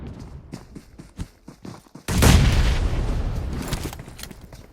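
A bomb bursts in PUBG on the Sanhok map: a sudden heavy boom cuts through scattered game clicks and shots, followed by a long rumbling roar that slowly fades.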